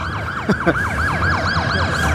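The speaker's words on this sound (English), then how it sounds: "And we have more sirens going down Broadway here." Emergency vehicle sirens wail, sweeping up and down repeatedly, loud and steady, on a Manhattan avenue near Times Square in the evening, with a couple of short thumps partway through and traffic rumble underneath.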